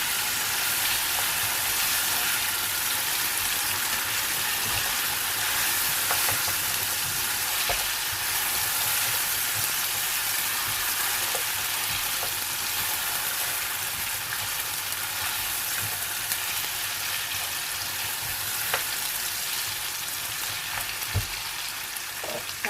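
Meat with cumin fries for pulao, producing a loud, continuous hissing sizzle with faint stirring taps scattered through a long, steady stretch.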